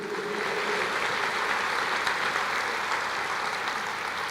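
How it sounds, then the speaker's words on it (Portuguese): A church congregation applauding during a sermon, a dense and even wash of clapping that holds steady for several seconds with no voices over it. "Pode aplaudir o Senhor"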